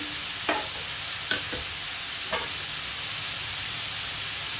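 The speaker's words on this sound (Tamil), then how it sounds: "எண்ணெயிலே காய் நல்லா வதக்கி விடுங்க." Beetroot stir-frying in oil in a pan, with a steady sizzle and a few sharp scrapes of a spoon against the pan, heard close with no talking.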